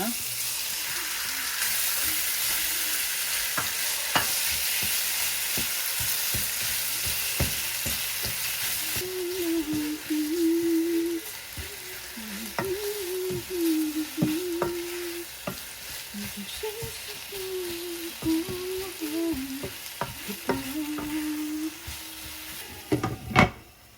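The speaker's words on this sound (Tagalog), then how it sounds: "Gisahin na muna natin siya." Marinated beef sautéing in a pan for a beef and broccoli dish, with steady frying sizzle and repeated stirring scrapes and clinks of the utensil throughout, close and fairly loud.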